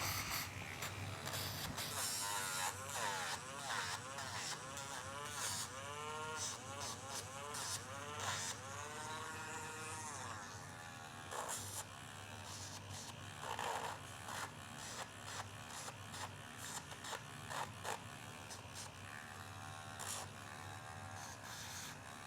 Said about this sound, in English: I know she might be a little nervous for the Dremel